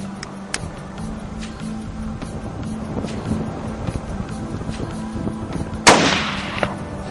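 A single sharp hunting rifle shot fired at a white blesbuck in South African grassland rings out near and loud, with a brief decaying tail, over quiet outdoor background.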